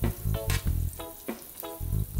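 Butter melts and sizzles in a non-stick pot, heard as short bursts of frying hiss mixed with low, tonal clatter and scraping from stirring, close and moderately loud.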